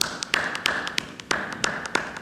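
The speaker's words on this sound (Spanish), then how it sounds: "Un aplauso." Sparse, separate claps ring out one by one during an online class, a handful of sharp near hits spaced irregularly with quiet gaps between them.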